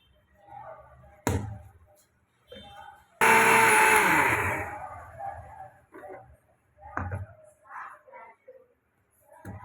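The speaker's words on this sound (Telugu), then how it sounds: "మిక్సీ గిన్నెలోనే ఇవి కూడా పేస్ట్ పెట్టించుకున్నాం" Mixer grinder blending mushroom recipe paste in a mixie jar, one loud whirring burst of about a second and a half that winds down, set among kitchen clatter and someone talking.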